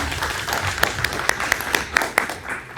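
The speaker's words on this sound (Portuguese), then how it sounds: "uma salva de palmas para todos nós" A lecture audience applauds at the close of a Sicredi business talk, a dense wash of clapping with a few sharper individual claps standing out near the microphone.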